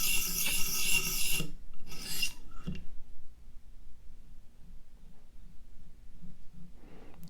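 A Hinderer Firetac knife blade drawn back and forth on a knife sharpener: a loud, close rasping grind for over a second, two shorter scraping strokes, then near quiet with a faint scrape at the end.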